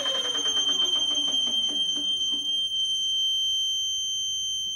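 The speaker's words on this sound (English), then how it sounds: "Well, there's the alarm. That's noisy, isn't it?" An IPS i5 electric unicycle's tip-over alarm sounds as a loud, continuous high electronic tone held steadily for several seconds, with a descending whir of the wheel spinning down beneath it at the start.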